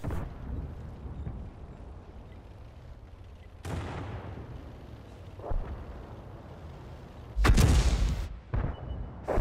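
Artillery booms in a tank video game, several heavy blasts and rumbling impacts at irregular intervals, the loudest near the end, with little talking.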